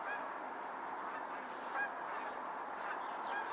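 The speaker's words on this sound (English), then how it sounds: "And Canada geese sound like they're in the air." Canada geese honking as they fly overhead, a series of repeated nasal honks at moderate distance over a quiet outdoor background.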